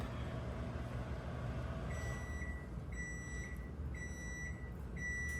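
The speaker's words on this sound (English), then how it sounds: "Y'all hear that microwave?" A low steady hum runs throughout while a microwave oven melting a stick of butter gives a series of four evenly spaced, high-pitched beeps, about a second apart.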